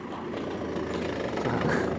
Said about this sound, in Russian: Такие вот работает техника.